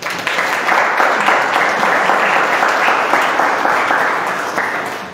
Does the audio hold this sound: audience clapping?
yes